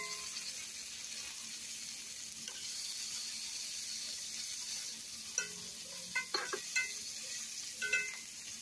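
Shrimp sizzling in a frying pan for a shrimp and steak burrito, a steady faint hiss throughout with a few soft clinks and scrapes near the end, no voices.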